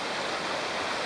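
Rushing water of a powerful Tasmanian river, a steady broadband roar close by, continuous and unbroken with no voices over it.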